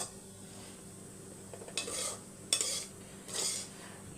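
A spoon scrapes and stirs cooked rice and egg around a pan in three short, bright bursts, quiet and close, with faint sizzling between strokes.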